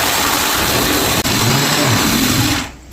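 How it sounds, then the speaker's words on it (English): Blender pulsing a frozen drink, giving one loud, dense motor roar that holds steady for over two seconds before cutting off abruptly at the end, with no one speaking. "then we'll throw our lid on here and give it a little pulse."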